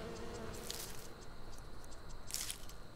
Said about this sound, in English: And there's bees.